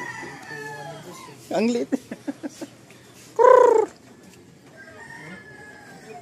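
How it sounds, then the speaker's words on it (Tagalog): A small Chinese chicken kept indoors clucks close by in a quick run of short pulses, then gives one louder call, over a low background hum with a brief spoken remark. "Ang Chinese chicken yata ito. Chinese chicken to kuya no?"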